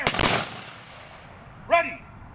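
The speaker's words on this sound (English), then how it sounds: "Attention, port arms, unlock rifles, ready, aim, fire" A single sharp rifle volley from an honor guard at a graveside interment, one loud crack at the start fading out, followed a moment later by a shouted command.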